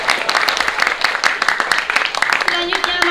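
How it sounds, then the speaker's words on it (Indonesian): A crowd applauding, dense steady clapping with voices mixed in. "Beri tepuk tangan yang meriah sekali lagi untuk Siti Napiasi."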